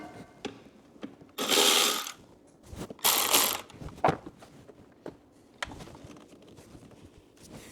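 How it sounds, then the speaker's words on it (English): Plastic air intake being pulled off a car engine under the hood, with a few loud rattling, scraping bursts of handling noise among smaller clicks and knocks, close by and with no talk. "Now I'm just going to go ahead and pull this air intake off of here"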